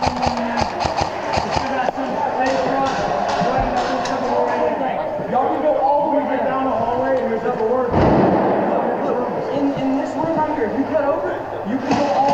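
Airsoft guns firing in rapid, overlapping bursts during an indoor game in a shopping mall, with loud pops and thuds echoing through the space and constant voices of players talking and shouting throughout.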